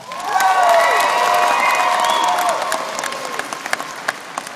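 A fan convention crowd bursts into loud applause with cheering and high-pitched whoops, voting by noise. The clapping stays dense for a few seconds, then thins into scattered individual claps.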